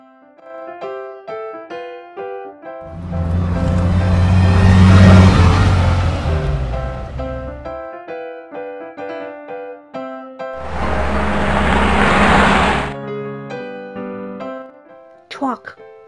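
A toy school bus from an Anpanman educational toy plays its sound effect, a loud engine rumble that swells twice amid chiming electronic tones, with short spoken bits between.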